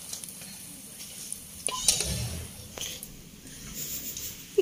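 Food frying in a pan during home cooking, a steady crackling sizzle at moderate level with a few louder clinks and stirring scrapes, no talk.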